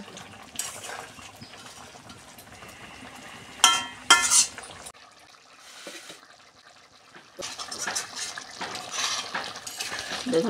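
Chopped tomatoes tipped into a pan of cooking vegetables and stirred in with a spoon, giving clattering metal scrapes and knocks, a sharp burst of clinks in the middle, then softer stirring and a faint sizzle.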